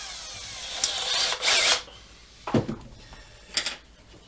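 A power drill fitted with an 8mm hex head bit drives a screw into a workbench while building A-frame trestles, giving short loud whirring bursts separated by brief pauses, close and without talk.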